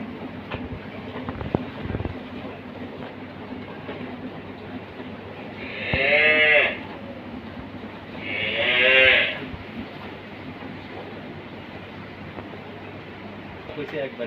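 Cows on a dairy farm during morning milking give two loud, drawn-out moos a few seconds apart, each rising out of a low steady hum of background noise with faint voices.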